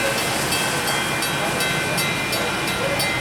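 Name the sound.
FEC train passing at Hialeah Yard, Miami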